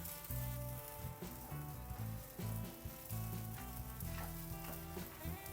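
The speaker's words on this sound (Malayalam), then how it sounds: "ശകല എണ്ണ വെളിച്ചെണ്ണ ഒഴിച്ച് വറുത്തെടുക്കണം" Grated coconut and curry leaves roasting in coconut oil in a pan for a Kerala fish curry, a steady close sizzle and crackle with occasional stirring scrapes, no voices.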